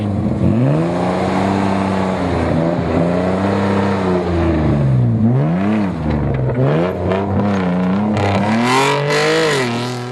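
A 4x4 vehicle's engine revs hard while tackling an off-road obstacle at a national 4x4 challenge, the loud motor repeatedly rising and falling in pitch in surging bursts, close and sustained.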